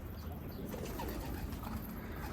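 Pet pigeons coo softly and faintly in a low, throaty murmur over steady background hiss, with no one speaking.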